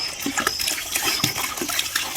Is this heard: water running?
yes